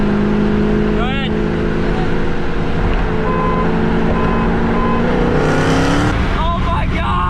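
A restored Duramax diesel truck revs and accelerates with a loud continuous drone whose pitch climbs and shifts as it pulls, heard from up close while people talk and shout over it.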